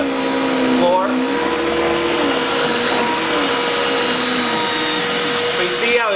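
An old upright vacuum cleaner running on a hardwood floor, a loud steady motor whine with a constant airy roar and a slight pitch shift as it is lowered to the floor, with no talk.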